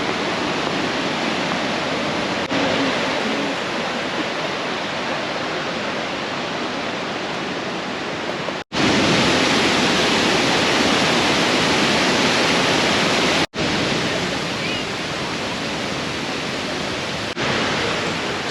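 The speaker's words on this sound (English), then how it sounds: "So when you do come to Krka, these are the waterfalls." Waterfalls at Krka National Park in Croatia pour with a loud, dense, continuous roar of rushing water, broken only by a couple of brief dropouts.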